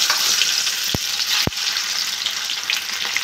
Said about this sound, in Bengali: তেলটা গরম হয়ে গেছে, রসুন থেতো করে রেখেছি ওটা দিয়ে দেবো।